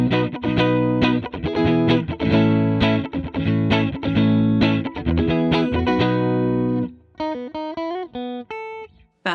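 An electric guitar played with a clean tone through a Catalinbread CB Series pedal, loud strummed chords and picked notes ringing in a steady rhythm before thinning to a few sparse plucked notes.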